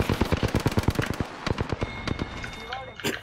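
Rapid automatic gunfire bursts in the Apex Legends video game, a fast run of sharp close shots followed by scattered single reports, with players talking over the action.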